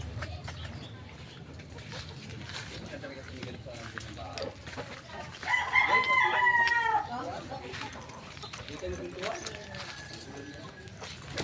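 A young rooster crowing in a backyard game farm, one drawn-out crow in the middle, fairly near, over ambient noise and low background voices.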